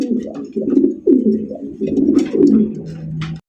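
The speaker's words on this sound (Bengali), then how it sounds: "এখানে রয়েছে একজোড়া আপনার হাই ফ্লাইং গিরিবাজ কবুতর" A pair of high-flying Giribaz pigeons coo close by in repeated low, throaty phrases, each rolling call lasting under a second and following one after another with short gaps.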